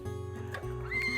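A Henson horse in northern France lets out a single loud, close whinny that rises and wavers before settling, with faint background noise and no talk.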